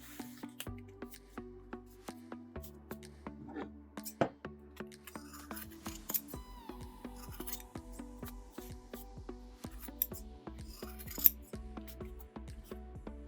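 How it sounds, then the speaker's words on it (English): Scissors snip yarn tails off a handmade pom-pom, with many small, quiet, close clicks and cuts repeating steadily. "I no longer need the tails of the yarn, so I'm going to cut those off"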